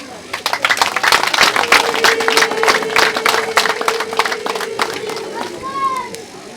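Guests at a traditional Rwandan wedding ceremony clap in approval, a dense run of many claps from a crowd that gradually thins out, with a voice heard above it.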